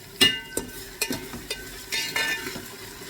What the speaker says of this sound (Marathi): पुन्हा एकदा व्यवस्थित परतून घ्यायचं दोन दोन मिनटांनी परतत राहायचं आहे